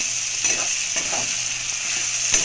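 Oil sizzling in a pan as dried chili, cumin, capsicum, tomato, garlic and onion paste fry, with a steady hiss and occasional stirring scrapes, close and moderately loud.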